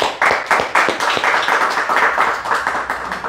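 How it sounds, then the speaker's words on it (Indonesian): Audience at a talk show featuring a young Surabaya model clapping for her: loud, sharp, closely spaced claps from a modest crowd, starting abruptly and continuing in a lively, uneven patter. "Tepuk tangan untuk Karina."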